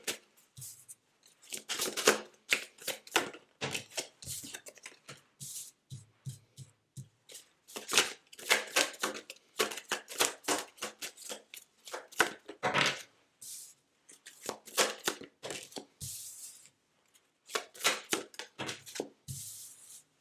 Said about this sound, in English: So let me pull some tarot cards and see what this could be about for you.